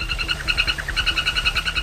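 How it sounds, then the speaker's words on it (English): A frog calling in the Amazon rainforest, rapid rhythmic pulsed chirps repeating steadily and loudly over a dense low background hum of the forest. "There are about 100 species of poisonous frogs in the Amazon forest alone"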